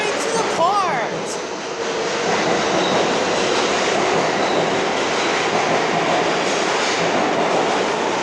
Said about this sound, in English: Let's wait for the L train to depart.